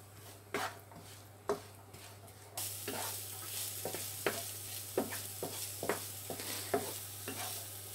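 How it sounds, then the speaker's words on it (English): Chopped onions and garlic sauté in olive oil: a spoon knocks and scrapes the pan at a slow, steady pace, and a loud sizzle bursts in partway through and continues under the repeated stirring; nobody speaks. "I'm going to go ahead and throw in our onions and our garlic first"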